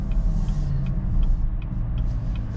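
A Chevrolet Camaro ZL1 heard from inside while driving and downshifting, a deep, steady engine rumble that stays loud and close, with a few brief higher blips over it.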